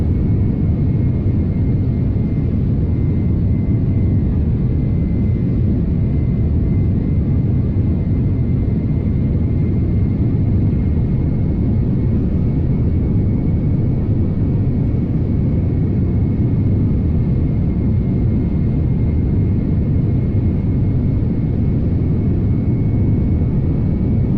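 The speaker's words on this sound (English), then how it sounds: "today I am once again reprising the use of the Tenku Developers Studio Boeing 787-900 series Dreamliner." Cabin and engine rumble of a Boeing 787-900 series Dreamliner in the Flight Simulator X game, a steady loud broadband roar with a faint thin whine, unchanging throughout and with no talk.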